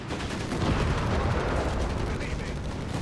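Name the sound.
gunfire in the video game Company of Heroes 3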